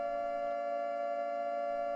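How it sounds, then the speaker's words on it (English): Civil defense siren during the 1966 tornado in Overland Park, Kansas, holding a steady, piercing tone with clear overtones, sustained and unbroken throughout. "And then, finally, the wailing sound of a nearby civil defense siren."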